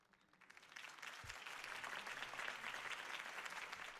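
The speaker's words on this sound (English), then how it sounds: "could have heard that applause" A crowd applauds after a campaign speech in a video game, the clapping swelling quickly from quiet into a steady, dense wash of hands that carries on without pause.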